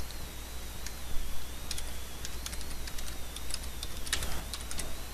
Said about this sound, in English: I'm a little typing challenged, but I get by somehow.